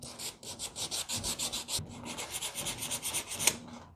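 Rhythmic back-and-forth sanding strokes scrub across a painted garage wall, about four strokes per second in a close, soft rasping pattern with a short pause midway.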